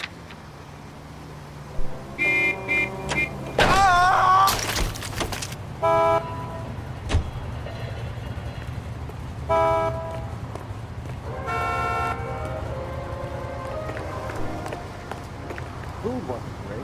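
Car driving in the LA Noire video game, a steady low engine drone running throughout with several short, loud horn toots and game voices talking over it.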